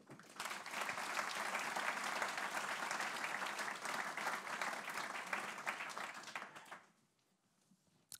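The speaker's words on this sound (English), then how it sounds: "please give it up, a warm applause for Hannah Ritchie" Warm audience applause at a book launch talk, steady dense clapping from a room full of people for about seven seconds before it stops abruptly.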